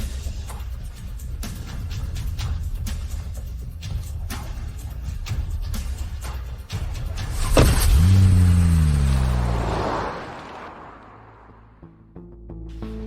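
A car engine close by with clicks and small handling noises, then a surging rev and a falling whine as the car pulls away and fades, followed by quieter tonal sounds, no talking.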